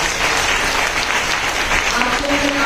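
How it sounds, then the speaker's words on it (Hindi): A church congregation claps loudly and continuously in a dense, sustained wave of applause, with a few voices faintly audible underneath. "एक बार जोर ताली बजाइए।"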